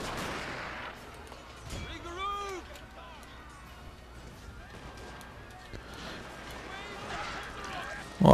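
Gunfire rattles through a Total War Shogun 2 Fall of the Samurai battle against samurai. Scattered distant shots and volleys sit under battlefield clamour and in-game voices, ending in a sudden loud burst.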